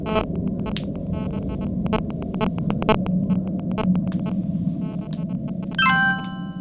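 Notification chime from a text message arriving in the adventure game Dark Fall: Lost Souls, a short bright descending ding near the end, following a scattering of clicks and tones over a steady low hum.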